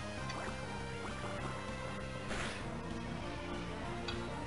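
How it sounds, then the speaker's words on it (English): Water Gun attack in Pokémon Sapphire, a watery gushing and gurgling game effect with a brief splashy burst midway, heard over steady in-game background music. "Let's use Water Gun."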